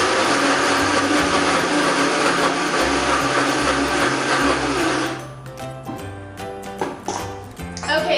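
A blender grinds basil, almonds and garlic into pesto with a loud, steady whirring drone for about five seconds, then the motor cuts off, leaving clinks and handling noises.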